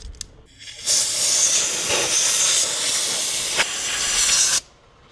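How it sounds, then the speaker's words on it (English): Air compressor nozzle blowing debris from around a VQ35DE engine's valve cover, a loud sustained hiss of blasting air that starts abruptly, runs for several seconds with small surges, then cuts off. "I'll take a little air compressor and I'll blow in there just to get that stuff out of there before I open up the valve cover."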